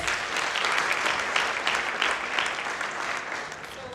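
A church congregation claps for Jesus during a testimony service led by Apostle Godson Nefale, a steady wash of many hands throughout, fairly even in loudness and tapering a little at the close.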